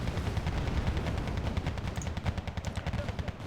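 Grenade launchers firing in the video game Wargame: Red Dragon, a dense stream of rapid thudding battle shots over a steady rumble, loud and continuous.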